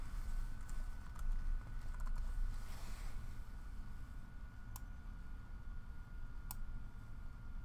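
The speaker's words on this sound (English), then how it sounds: "I think I'm going to type the numbers in" Numbers typed on a computer keyboard, a sparse run of faint key clicks over a steady background hiss and hum, close but quiet.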